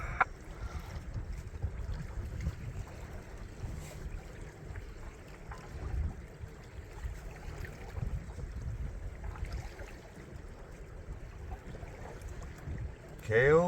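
A sailboat underway on Lake Cumberland in Wayne County, Kentucky, giving a steady low rumble of water and wind noise on the hull that runs throughout at an even level, with a brief louder burst at the very end.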